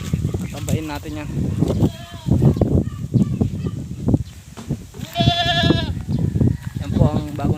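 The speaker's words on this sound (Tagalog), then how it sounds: "Patabain kambing." Newly arrived goat bleating repeatedly at close range, several quavering calls scattered through the stretch, mixed with a person speaking nearby.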